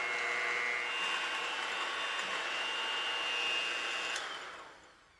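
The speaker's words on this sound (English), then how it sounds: "And I'm going to work the egg whites separately." An electric mixer whips egg whites with a pinch of salt for a cheesecake, a steady high whirring drone that runs unbroken for several seconds before switching off and fading.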